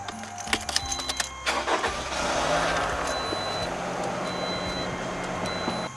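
A 2010 Toyota RAV4 is started up: a few key and dashboard clicks and chimes, then the engine cranks and catches into a steady idle hum with electronic beeps continuing.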